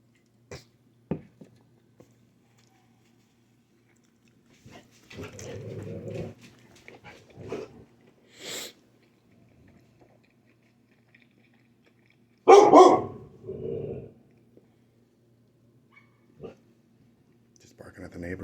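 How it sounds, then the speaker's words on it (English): A dog barks at the neighbors in short, scattered bursts, one louder cluster partway through, with quiet murmuring and chewing sounds between. "Just barking at the neighbors."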